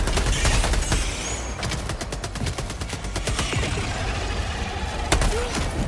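Gunfire in Helldivers 2, dense bursts of rapid automatic shots crackling close and loud, overlapping in fast volleys with barely a pause.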